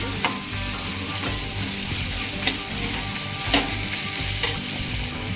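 Mutton coated in masala is stirred in a hot pan, a steady sizzle broken by regular scraping strokes of the spoon, close and alone.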